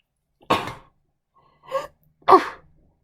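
A person sneezes indoors: three short bursts, a sharp opening sneeze, then a softer intake and a final loud explosive one, close to the microphone, with near silence between them.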